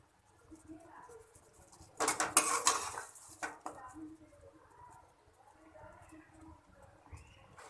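A utensil clinks and scrapes against a pan as tawa kaleji is served out, with a short burst of metallic clatter amid quiet kitchen sounds.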